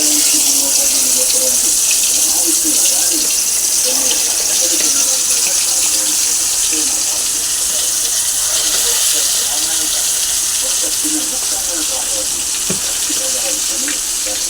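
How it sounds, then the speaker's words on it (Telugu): Chicken leg pieces frying in hot oil, a loud continuous sizzling hiss that stays steady throughout, close up, with a faint voice now and then underneath. "ఇప్పుడు లెగ్ ఫ్రై చేసుకుందాం. ఆయిల్లో వేద్దాం."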